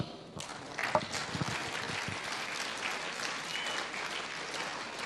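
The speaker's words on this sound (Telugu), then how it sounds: "ఓకే, ఒకసారి వీళ్ళకి క్లాప్స్ ఇద్దాం." An audience at a direct-selling company meeting claps: sustained, fairly even applause from many hands that starts sharply after a brief quiet moment and continues for about five seconds.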